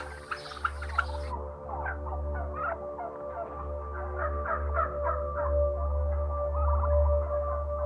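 Turkeys on a crowded poultry farm give off a chorus of gobbles and clucking calls over a constant low mechanical hum, with scattered bird cries rising and falling throughout.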